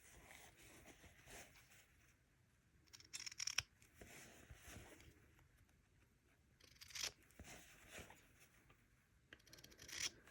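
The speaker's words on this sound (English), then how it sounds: "now I'm going to just carefully trim those corners" Scissors carefully trim the fabric corners of a small cross-stitch pillow after a quarter-inch seam, giving a few faint, close snips and soft rustles against a quiet background.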